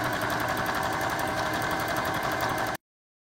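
A sewing machine stitches a seam up a drawstring bag with a fast, steady, even mechanical whir for close to three seconds, then stops abruptly; no one speaks.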